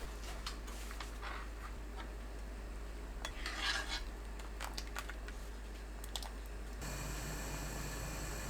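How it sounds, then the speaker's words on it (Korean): Eggs are beaten in a bowl for a Korean anchovy noodle soup, giving quiet, rapid clicking and scraping taps that run alone, ending in a faint steady hiss. "계란을 풀어주세요."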